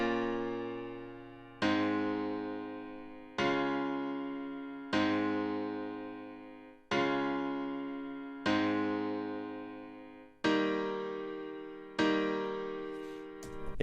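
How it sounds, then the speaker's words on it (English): Piano-toned MIDI triads struck one chord at a time, eight blocked chords about every 1.7 seconds, each ringing and fading before the next, played alone with no talking. "basically I just punch in each individual chord and play a triad"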